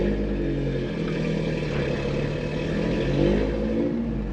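An off-road vehicle with its rear locker disengaged strains against a rocky ledge, its engine droning and revving steadily as the wheels spin without gaining grip, close and constant throughout with no voices.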